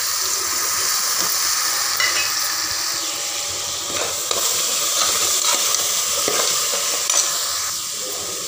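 Ginger garlic paste sizzles loudly in a pan with onion and tomato for a mutton kuzhambu, a steady close frying hiss with occasional stirring scrapes throughout and no talking.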